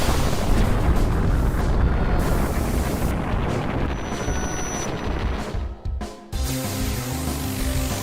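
Huge cannon blasts in the Final Fantasy XIV game, a loud continuous roar of explosive booms with rumbling low end, briefly dropping out near the end before the heavy boom resumes.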